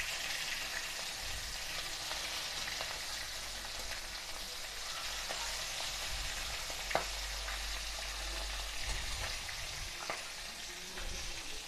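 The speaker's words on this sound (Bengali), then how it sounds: "একদম হাই ফ্লেমে রেখে মাছের মাথা দুটো আমি ভালো করে ভেজে নেব।" Two fish heads fry hard in hot oil over a high flame, giving a dense, continuous sizzle close by, with one sharp clack as they are flipped and a few soft scrapes.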